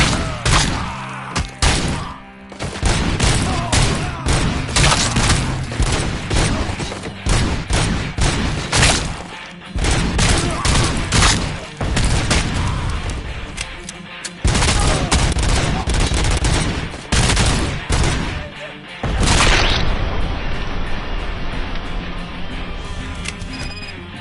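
Movie-prop guns fire in RoboCop: Rogue City, with dense bursts of gunfire, automatic volleys and heavy thuds packed close together, loud and near, broken by a few short pauses.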